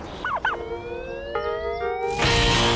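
Turkeys gobble in a few quick warbling bursts at the start, followed by a long rising tonal whine and then a louder burst of noise near the end, with no talking.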